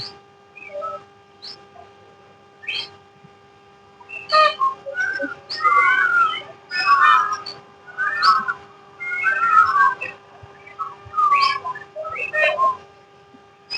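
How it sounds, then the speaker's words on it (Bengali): Birds calling at a bird park in Chandigarh: bright whistled chirps in scattered bursts that cluster into a busier stretch midway, fairly near, over a faint steady hum. "শুধুই পাখির ডাক আর পাখির ডাক।"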